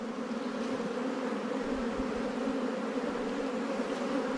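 Dense, steady drone of many honey bees on a brood frame of capped brood, a continuous close hum with no talk over it.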